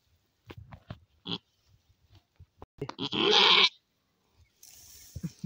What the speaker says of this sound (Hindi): बकरी को भाइयों बहुत ही दर्द हो रहा है और यह बच्चा देने में बहुत समय लगाएगी